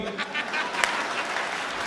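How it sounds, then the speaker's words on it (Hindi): An audience at a Hindi comic poetry gathering applauds steadily, a dense continuous patter of many hands with a speaking voice faintly mixed in. "ताली कमजोर है आपकी।"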